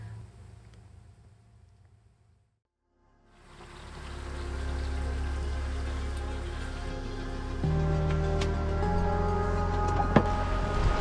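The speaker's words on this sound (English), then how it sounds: "A downpour gave us some much needed fresh water as well." Heavy tropical downpour falling on a sailboat anchored in Fiji's Yasawa Islands. After a few seconds of near silence, a dense, steady hiss of rain rises and holds loudly to the end.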